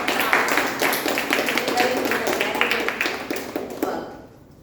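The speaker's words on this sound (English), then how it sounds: "A big round of applause to our icebreaker speech" A room full of people claps steadily for a few seconds after an icebreaker speech at a speakers' club meeting, the applause fading out at the end.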